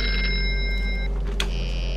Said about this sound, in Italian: adesso squilla il telefono